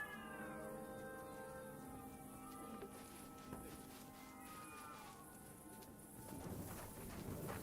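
Cats meowing inside the medieval role-playing game Kingdom Come: Deliverance II, several drawn-out plaintive mews spread across a low background hum, fairly quiet, with no talking.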